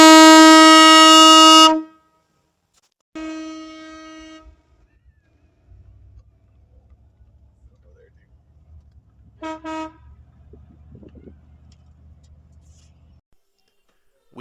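A newly installed air horn on an adventure van blares in one long, loud blast, then a shorter one, and later two quick toots, with a low engine rumble between them.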